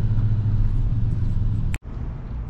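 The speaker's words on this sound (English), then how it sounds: "Southern California traffic." Steady morning road traffic in rainy Southern California, a continuous low car rumble close by with a brief dropout near the end.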